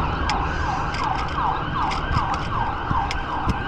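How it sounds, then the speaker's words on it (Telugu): An ambulance siren wails on a road, its repeating rising-and-falling sweeps steady and loud over continuous traffic rumble, with no talking. "కార్లు ఆగుతున్నాయి జస్ట్ బికాజ్ ఆఫ్ అంబులెన్స్"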